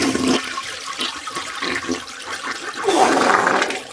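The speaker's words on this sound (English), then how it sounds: "I flushed him down the toilet" A toilet flushing close by, a rushing gurgle of water that swells into a louder roaring whoosh toward the end.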